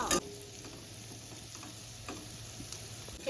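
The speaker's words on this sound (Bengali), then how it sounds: "কিন্তু সবকিছু দিয়ে একদম লাল লাল করে পেঁয়াজ আর রসুনটা ভাজতে হবে।" Onion, garlic and chillies fry in oil with a faint, steady sizzle and a few light stirring ticks, quiet and close with no talking.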